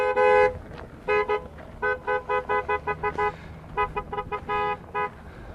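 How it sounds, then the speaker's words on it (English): Car horns honk repeatedly in short bursts and a few longer blasts outside a detention center in Pahrump, Nevada, an irregular chorus of toots close by. "Hey, honk some more because they can hear you."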